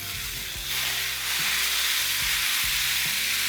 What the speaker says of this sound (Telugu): ఇక్కడ బెండకాయలు కూడా వేగుతూ ఉన్నాయి చూడండి